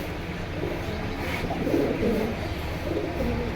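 Black jack pigeons cooing softly at a pigeon market stall, a low murmuring coo from a pair amid steady crowd and background noise.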